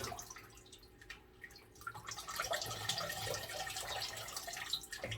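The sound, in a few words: watering orchids with fresh water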